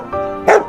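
A dog gives a quick, loud bark after a brief tonal cry in an animated cartoon set in rural Upper Egypt, one short burst up close.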